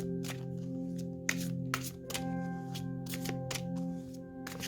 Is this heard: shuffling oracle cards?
yes